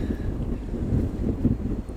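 Low, steady rumbling wind and engine drone on the deck of the Wellington to Picton ferry in breezy conditions, with faint, even noise throughout.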